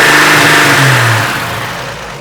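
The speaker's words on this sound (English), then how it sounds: "Watch this when I rev it" An old Chevy truck engine revs up loud and close, a steady throaty roar that holds and then slowly eases down.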